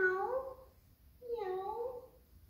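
A domestic cat meows twice, the first call drawn out and the second rising then falling, both loud and close with a brief pause between them in a quiet indoor setting.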